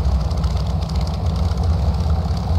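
A P-40F Warhawk piston engine drones steadily in a flight simulator, a loud low-pitched idle hum with its revs held low and a slight pulsing rhythm throughout.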